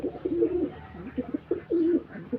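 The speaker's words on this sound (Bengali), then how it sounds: "এই যে দেখুন, মাশাল্লাহ আমার গিরিবাজ কবুতরটা" A Giribaz pigeon in its coop coos close by, giving several soft, throaty rolling calls in a loose repeating rhythm with short pauses between them.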